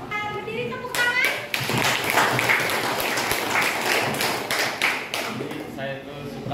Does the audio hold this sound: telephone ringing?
no